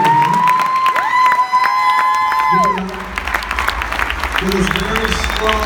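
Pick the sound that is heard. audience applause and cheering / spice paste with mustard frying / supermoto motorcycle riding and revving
audience applause and cheering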